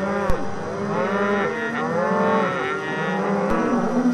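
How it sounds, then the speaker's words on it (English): Cattle heading up into the Steens Mountains of southeastern Oregon bellow and moo continuously, many overlapping calls, some nearby and others fainter, forming a steady chorus of lowing. "The bellowing of the cows becomes more faint as they head higher and higher into the Steens Mountains."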